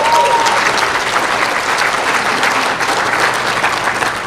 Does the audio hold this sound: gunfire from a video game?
no